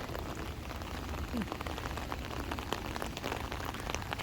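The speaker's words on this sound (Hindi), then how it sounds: "टिप टिप मेरी छतरी पे आपको सुनाई दे रही होगी" Steady rain patters densely on an open umbrella overhead, a continuous close crackle of drops with no voices.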